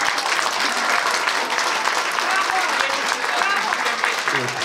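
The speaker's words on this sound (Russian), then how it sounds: "Аплодисменты." Dense, steady applause from an audience at a fan meeting for Dimash in Yerevan, continuous clapping filling the whole stretch at fairly close range, with faint voices mixed in.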